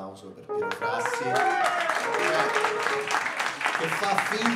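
A live jazz concert audience claps and applauds for a pianist, steady and fairly close, starting abruptly and continuing under voices and cheering.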